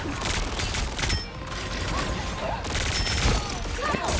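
Rapid gunfire from Star-Lord in the video game Marvel Rivals, a continuous stream of close, punchy shots with mechanical effects and impacts.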